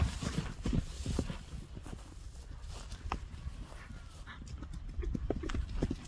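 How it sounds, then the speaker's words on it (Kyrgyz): A horse runs lightly at speed in a Kyrgyz ulak tartysh game, its hooves drumming a quick, uneven clip-clop under a rumbling outdoor wash of crowd and field noise. "Жеңил, өзүн ат кыйнабай жүгүрөт экен жаныбар."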